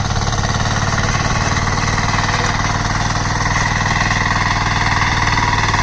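A power tiller's engine runs at a steady, loud, close chugging throb, with an even rapid pulse that holds throughout without pause.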